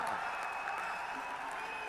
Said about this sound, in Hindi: तालियां जरा ढंग से बजाओ,